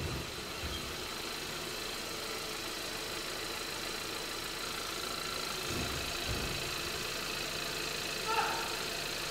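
A gasoline GDI car engine idles steadily with a constant low rumble and hum, holding an even level throughout with a brief slight rise near the end.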